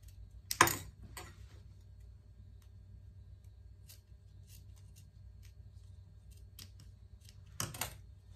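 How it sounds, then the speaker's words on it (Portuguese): Scissors cutting excess fabric from a pet parka, two short, crisp snips near the start and near the end with faint small clicks in the quiet between. "Cortamos o excesso"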